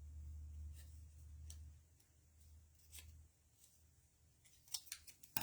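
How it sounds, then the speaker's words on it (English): Paper being trimmed with scissors around a small cut-out unicorn shape: a few soft, quiet snips spread out over a low background hum, then a quicker cluster of sharper snips near the end. "I think I need to cut just a little bit more right here"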